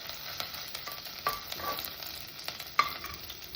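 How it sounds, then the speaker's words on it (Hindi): Ingredients for an aloo tamatar sabji sautéed and mixed in a pan, giving a hissing sizzle with a few sharp scrapes and clinks of a spoon, close and fairly quiet, no talking. "और अब इसे थोड़ा सा सौते करना है"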